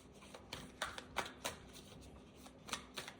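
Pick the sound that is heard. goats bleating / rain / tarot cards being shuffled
tarot cards being shuffled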